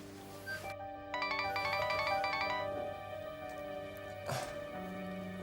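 Phone ringtone playing a bright electronic melody indoors during a drama scene, fairly soft with tonal notes and a brief pause before resuming, no voices over it.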